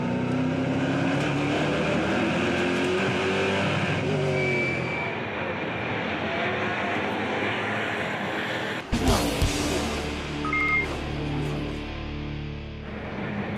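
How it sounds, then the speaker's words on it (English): Onboard NASCAR Euro Chevrolet SS race car at Brands Hatch, its V8 engine roaring and shifting through revs at close range, with a sharp jolt midway, then climbing through gears again. "Now we're on board with Jan Zimmer, who overtakes Javier Villa in his Chevrolet SS after making a good start"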